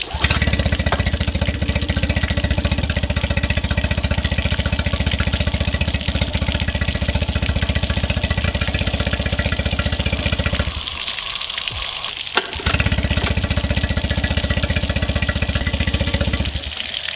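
Outboard motor on a jon boat idling steadily and loudly up close, a continuous droning rumble with a brief dip around the eleventh second before it carries on running; no talking.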